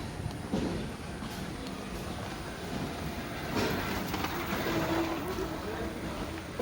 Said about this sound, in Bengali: এখানে রেল লাইন গাড়ি যাচ্ছে